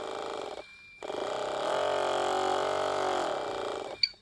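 A battery-powered pesticide sprayer pump, just fitted with a new battery, whirs in a steady rough motor drone after a short start-stop, close and fairly quiet, with a small click at the end.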